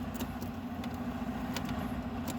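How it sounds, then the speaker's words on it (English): A noisy truck outside rumbles faintly through the walls, a low, steady engine drone with a constant hum and a few small clicks indoors, heard without any talking. "there's a noisy truck there."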